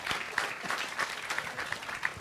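Applause from an audience at an evening public talk: steady, dense clapping that holds evenly throughout, moderately loud, with no voices over it.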